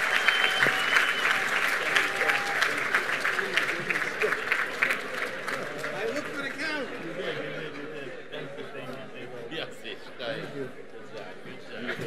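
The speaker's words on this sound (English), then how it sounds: "Ladies and gentlemen, a round of applause" Convention audience at the Project Inspire Convention 2019 applauding in a large hall, sustained dense clapping with crowd chatter and a few voices mixed in, gradually thinning toward the end.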